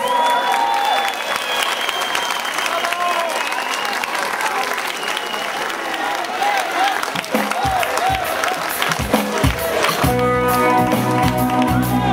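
Audience applause for a performer at a Bulgarian concert event in South Park, a broad sustained clapping crowd with some cheering, ending in a few louder close claps and thumps.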